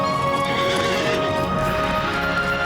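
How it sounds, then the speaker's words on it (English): Horse hooves in the online game LOTRO clatter steadily over a continuous bed of game ambience and music, the footfalls fairly close and evenly paced, with no talking. "I would use the horse."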